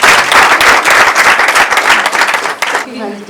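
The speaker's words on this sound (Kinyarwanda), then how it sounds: "mumwongera amashyi menshi avuze neza" Loud audience applause fills a gathering, with dense clapping that holds steady and then fades out near the end, mixed with crowd voices.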